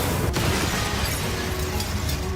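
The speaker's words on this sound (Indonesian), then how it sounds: "Sebelum mereka melarikan diri, tabung gas itu meledak dengan keras." A gas canister explodes in a Korean drama scene with a loud, dense roaring blast that fills the whole moment, a sustained wall of rumbling noise without speech.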